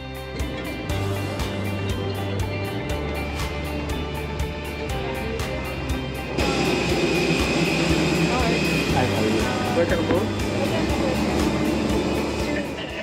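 Airbus A320 airliner engines drone steadily from inside the cabin, a broad even hum with tonal whine that grows louder and brighter partway through, as if spooling up. A voice speaks over the engine noise.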